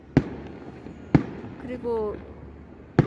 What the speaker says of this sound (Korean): 저렇게 불꽃놀이도 하면서